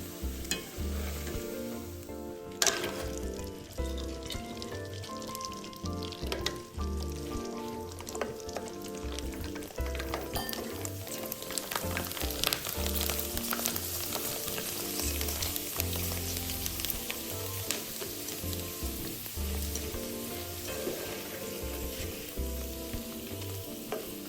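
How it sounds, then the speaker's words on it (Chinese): Prawn crackers deep-frying in hot oil, a steady dense sizzle running the whole time with stirring and clinking over it, loud and close with no voices. "抓一点虾饼片放入热油中，成功制作的虾饼片会快速膨胀变大"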